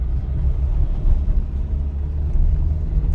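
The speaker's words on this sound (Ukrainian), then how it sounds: "Зараз у мене друга швидкість, я переходжу на третю, у мене механіка" A manual-transmission car drives along during a driving-test route, its low engine rumble and road noise steady and close throughout as it moves from second into third gear, with no distinct shift event standing out.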